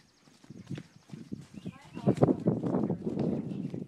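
Horse hooves trotting near a barn, a quick run of rhythmic hoof beats getting louder and closer, with voices talking over them.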